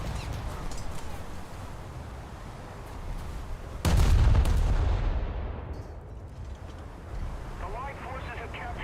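Warship guns fire in a naval video game, a single heavy boom cutting through a steady background rumble and then decaying slowly, while a voice talks over the battle.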